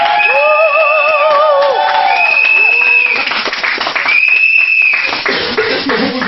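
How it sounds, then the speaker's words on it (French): Wedding guests applaud during a ceremony, with steady clapping and crowd noise running throughout, mixed with sustained tonal sounds that resemble singing or music. "Applaudissez."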